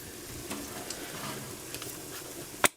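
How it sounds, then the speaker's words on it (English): Jerk tofu frying in oil on a stovetop, a steady close sizzle with a few soft clicks and a sharp clatter near the end. "Now I'm definitely gonna have to add a little bit of oil to help that fry up"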